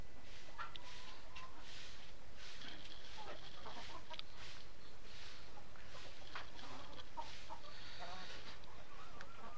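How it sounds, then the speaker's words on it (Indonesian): Chickens cluck in a backyard coop, with a scattering of soft, repeated calls under a constant hiss of background noise and no clear speech. "Ini sebagian lagi ayam yang di kandang sebelah."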